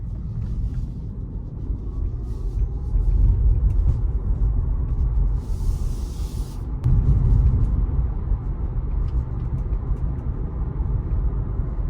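A Tesla Model Y driving on a city road with one-pedal driving, a steady low road rumble and tyre noise inside the cabin, swelling louder twice, with no talk.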